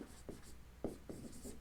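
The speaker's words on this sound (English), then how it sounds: "Let me write it down on a board" Short bursts of a marker writing on a board, a few quick squeaky strokes spaced irregularly across under two seconds, close and fairly quiet with no talk.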